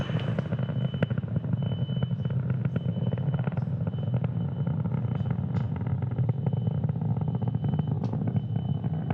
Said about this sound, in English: So now we'll throttle those 9 M1D engines back up.